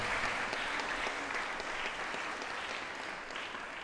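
A church congregation applauds at an adoration feast of Corpus et Sanguis in Malkapuram, a dense, steady clapping that fills the whole stretch at an even level.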